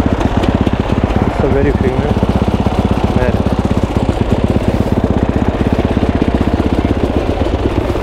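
Enduro motorcycle engines idle after a ride, a steady rapid low thumping pulse that continues throughout, close and fairly loud, with brief talking over it early on.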